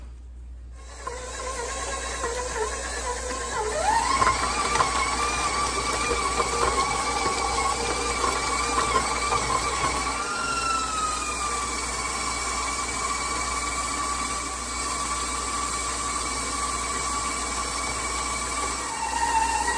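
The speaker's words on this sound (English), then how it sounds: "I have 3 sticks of butter I'm gonna put in my mixer with the paddle attachment, and we're gonna cream the butter" A stand mixer with a paddle attachment creams three sticks of butter, a steady motor whir with a sliding whine that holds close and constant, with no talk over it.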